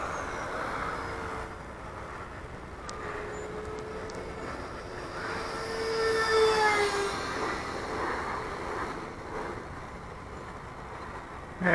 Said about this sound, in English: here comes a low chopper